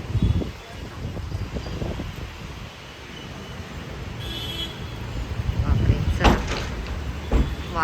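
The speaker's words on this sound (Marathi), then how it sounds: "बाहेर वारा खूप यायला लागला आहे" Gusty wind roars outside in broad, surging waves as rain begins, with rustling and a few knocks, while a person talks over it.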